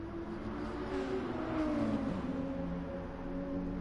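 Racing car engines whine through a GT Sport race at Interlagos, a steady mid-distance drone with rising and falling pitch as cars accelerate down the straight, no talking over it.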